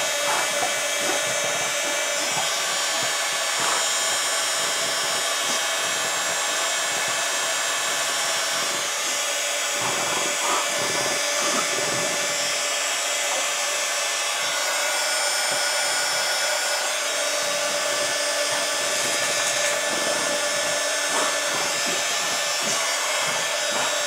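Electric heat gun blowing hot air to shrink heat-shrink sleeving over a wire while wiring an electric radiator, a steady loud whooshing roar running alone and unbroken throughout.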